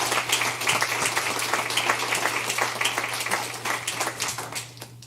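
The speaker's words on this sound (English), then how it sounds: "One more big round of applause for all of the conference planning people." Applause from a conference audience in a business meeting hall, steady dense clapping at moderate distance that tapers slightly toward the end, with a low steady hum underneath.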